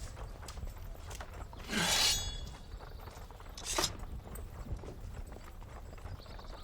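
Horses being readied for a journey, with a few sharp hoof clops and clinks of tack standing out against steady background noise.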